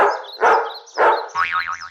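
A cartoon dog lunges and barks in an animated comic scene, with three short, loud bursts followed by a wobbly, bouncy springing effect, no talking.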